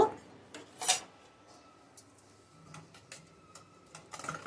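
Soft, intermittent rubbing and rasping as salt, kasuri methi and spices are worked into raw chicken for grilling, with a few sharper scrapes near the start and end and quiet gaps between.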